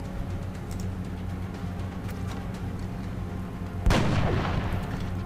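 Gunfire in the video game XCOM: Enemy Within aimed at a chrysalid, a single heavy blast near the end rising sharply out of a low steady ambient hum, close and loud.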